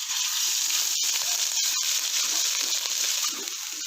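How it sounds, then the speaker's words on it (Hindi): Ginger garlic paste sizzles in hot cooking oil in a kadhai, a steady close hiss with a few sharp crackles and pops, and no talking. "जैसे ही ऑयल थोड़ा सा गर्म होगा इसके अंदर अदरक लहसुन का पेस्ट शामिल कर देंगे।"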